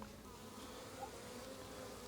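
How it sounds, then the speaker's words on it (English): Honeybees crowd a hive frame where food had been placed on a Portugal farm, producing a steady, dense buzz of many insects close by, with no talk. "this is where all of the bees are congregating around the area where the food was"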